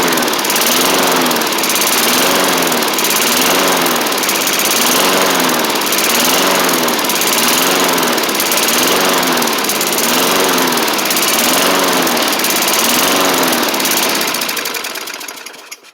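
A 1990s MTD Yard Machines push mower with an old-style Tecumseh engine runs loud and close, a continuous rough pulsing drone that holds steady before tapering off at the end.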